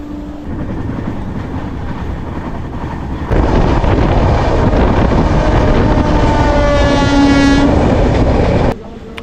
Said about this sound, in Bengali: 12857 তাম্রলিপ্ত এক্সপ্রেস। এই ট্রেনে করে কিন্তু আমরা যাব।